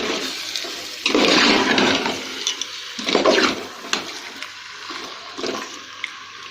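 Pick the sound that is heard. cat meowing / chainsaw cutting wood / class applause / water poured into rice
water poured into rice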